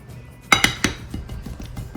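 Yogurt being mixed into naan dough in a bowl, heard as a few sharp clinks of a spoon against the bowl followed by softer, irregular scraping taps, fairly close with no talking.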